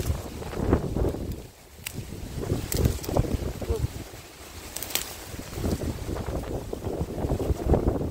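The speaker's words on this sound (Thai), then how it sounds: "จะเป็นลมคักเนาะ" Strong wind gusts buffet the microphone in an open rice field while foraging for wild vegetables, a steady low roar with surges, mixed with intermittent speech throughout.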